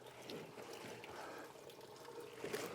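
Water trickles and splashes softly as freshly harvested garden green onions are rinsed, a faint, continuous close-up pattering of running liquid with small handling clicks.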